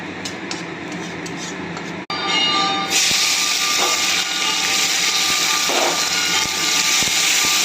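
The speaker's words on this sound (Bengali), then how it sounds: "পেঁয়াজগুলো একটু ভালো করে লাল লাল করে ভেজে নেব।" Onions frying in oil in a pan for a Sunday mutton curry: a loud, steady sizzling hiss that swells and stays constant from about three seconds on, close to the pan.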